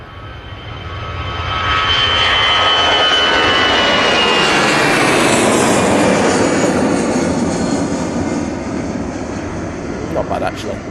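A Brussels Airlines Airbus A320 jet takes off at Manchester Airport, its engine roar swelling to a loud, sustained rush as it rolls toward the listener, then slowly easing, with a voice talking over it.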